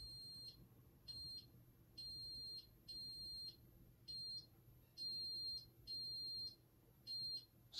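An Apollo XP95 smoke alarm shrieks during a system test in repeated high-pitched bursts, about eight beeps with short gaps, loud over a quiet room hum.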